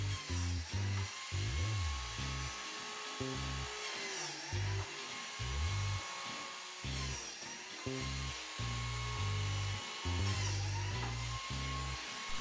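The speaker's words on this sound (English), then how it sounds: "Simply going ahead and cutting the biscuit slots for the biscuits with my biscuit joiner." A biscuit joiner cuts slots in boards for a modern kitchen table, its motor whining up and down in about three short passes. Low background music runs beneath the fairly faint tool sound.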